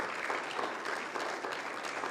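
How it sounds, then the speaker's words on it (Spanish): A church congregation breaks into applause for the Lord during a worship service, a dense, steady wash of clapping from many hands that holds evenly throughout without voices rising above it. "Si le va a dar un aplauso al Señor, déselo con ganas, iglesia."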